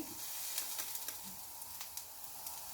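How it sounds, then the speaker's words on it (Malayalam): Onions sizzling and frying in a pan for a drumstick-leaf stir-fry, a steady soft hiss with faint crackles and small pops throughout, no voices. "ഉള്ളി കുറച്ച് ഫ്രൈ ആയിട്ടുണ്ട്."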